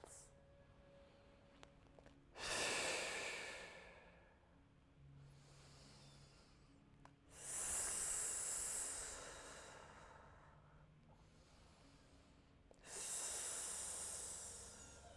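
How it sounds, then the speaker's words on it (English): Slow, deep breaths during a seated yoga twist, three long hissing exhales spaced several seconds apart, close and fairly quiet, with no talking. "twist the other way as you exhale. 3 deep breaths."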